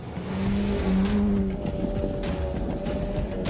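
A car drives through the Moroccan desert, its engine revving and straining up close with a rising tone early on before settling into a steady rumble, no voices.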